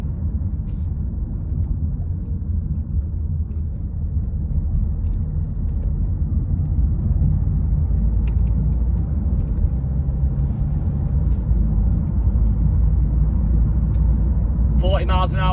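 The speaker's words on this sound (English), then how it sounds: "At this speed, the gear changes are very smooth, very nice." A car drives steadily through light traffic at around 40 mph, its engine and road rumble loud and continuous throughout, with smooth gear changes blending into the drone and a brief rattling burst near the end.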